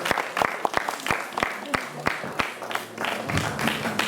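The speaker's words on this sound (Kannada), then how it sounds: "ಜೋರಾಗಿ ಚಪ್ಪಾಳೆ" Loud applause at a children's graduation ceremony for a Kannada school in Hamburg, with sharp, distinct claps ringing out steadily across a hall as a crowd murmurs underneath.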